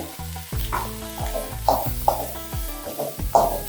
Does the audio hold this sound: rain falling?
no